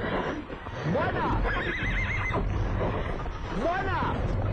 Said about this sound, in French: on va pas pouvoir arrêter les chevaux